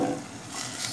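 Tuna and vegetables sautéing in a pan, a steady close sizzle with soft stirring scrapes, brief and continuous with no voices.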